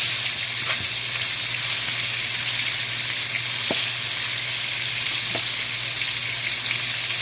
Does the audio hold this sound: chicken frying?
yes